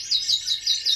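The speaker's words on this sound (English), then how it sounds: "the birds were singing really well" A lizard canary sings a quick series of five bright, high chirps in an even rhythm, clear and close, with nothing else audible.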